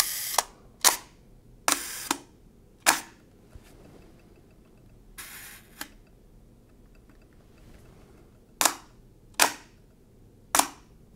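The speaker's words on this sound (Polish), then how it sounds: "teraz słyszymy, jak aparat wchodzi na czasy tak zwane długie" A Soviet Leningrad rangefinder camera fires its shutter repeatedly at long exposure speeds, sharp close mechanical snaps, some in quick pairs with a gap between opening and closing, separated by short quiet pauses.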